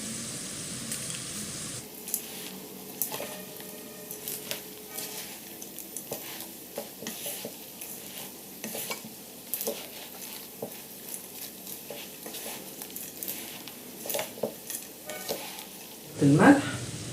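Vermicelli fries in a pot for koshari, giving a soft steady sizzle broken by repeated scraping and clinking as a spoon stirs it against the metal, with a brief louder clatter at the end.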